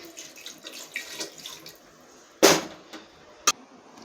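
Water is poured into a green gram curry in two short splashy bursts, the first longer and the second a quick splash, after a stretch of quiet kitchen clatter.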